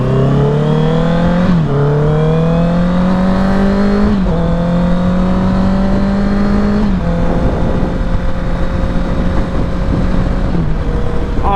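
A 2021 Honda CBR650R inline-four engine revs up loudly and close, climbing in pitch through several gear shifts and then settling into a steady drone.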